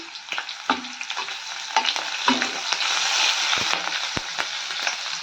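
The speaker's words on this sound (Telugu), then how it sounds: "రసంకి తడి సరిపడే నూనె వేసుకొని ఆవాలు జీలకర్ర వేసుకోవాలండి వేసుకున్నాక ఆవాలు జీలకర్ర కరివేపాకు వేసి" Mustard seeds, cumin and curry leaves frying in oil for a Chittoor-style raw tamarind rasam, a steady close sizzle with crackling pops and scattered sharp spits, no voices.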